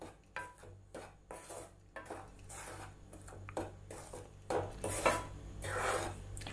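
Rice flour roasting in a pan over a medium flame, stirred with a utensil, giving soft irregular scraping and rubbing strokes that are faint and close, with no talking.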